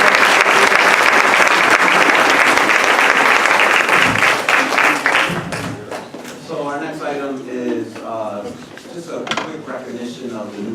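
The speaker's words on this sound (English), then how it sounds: "If we could all give them one more round of applause." Audience at a school board meeting applauds parent leaders, loud dense clapping that fades after about five seconds into scattered claps, shuffling and murmured talk.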